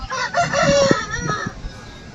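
Roosters crow amid clucking chickens at a busy poultry market, a clear crow rising over a crowded background of bird calls and market noise.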